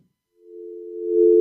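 Telephone line tone heard while calling someone on air: a single steady electronic tone that fades in after a brief silence and holds, growing slightly louder before cutting off sharply.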